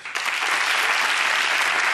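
Studio audience applause on a television interview set with a Supreme Court minister starts abruptly and holds as a dense, loud, even clapping for the whole stretch.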